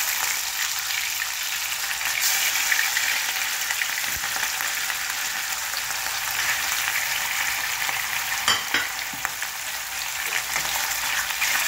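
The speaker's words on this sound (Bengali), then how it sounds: "তেলটা গরম হয়ে আছে, আমি এখানে মাছ ছেড়ে দিচ্ছি।" Rohu fish marinated in salt and turmeric sizzles in hot oil in a pan, a steady, close crackling fry with fine spattering that continues evenly throughout, with no talking.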